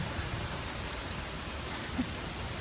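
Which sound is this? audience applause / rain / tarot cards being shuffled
rain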